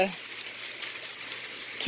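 Water rushes and gushes steadily during outdoor chores as it is pushed along to clear debris, a continuous hissing flow with a voice cutting in briefly at the end.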